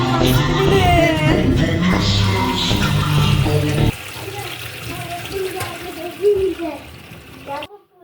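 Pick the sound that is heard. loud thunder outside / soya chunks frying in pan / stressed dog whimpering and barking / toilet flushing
toilet flushing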